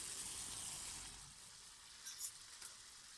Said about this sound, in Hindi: प्याज चिकन के साथ बहुत ही अच्छी तरीके से रोस्ट हो रहा है